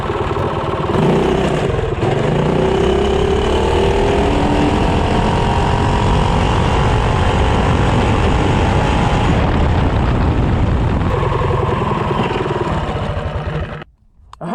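A Honda CT200U-EX motorcycle with a long intake manifold accelerates from 0 to 30, its engine roaring loud and close, climbing steadily in pitch for about thirteen seconds before cutting off abruptly.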